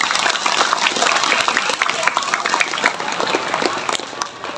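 An audience at a Maulid Nabi sermon breaks into brief, steady applause, a dense wash of clapping that fades slightly toward the end.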